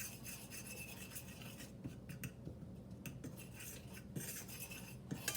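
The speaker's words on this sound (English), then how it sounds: "I'm just going to kind of spread that and mix that around the pan with that little bit of heat on there" Metal utensil scraping and clinking against a hot pan while cheese is stirred and spread for chicken Alfredo, a steady close run of scrapes and light taps with no talking.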